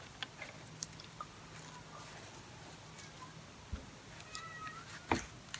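A person outdoors imitates a cat meowing. The few short calls are faint and distant over low background noise.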